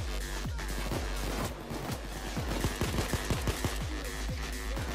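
Rapid gunfire in the video game Payday 2 cracks out in quick, repeated bursts, with sharp overlapping shots rattling nearly nonstop over a dense background of game noise.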